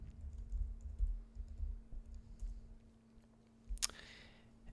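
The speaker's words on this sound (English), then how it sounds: "I have to type in my password." Quiet, soft tapping of keys as a password is typed on a Mac keyboard, a loose string of light clicks over a low steady hum, ending with a brief sharper click.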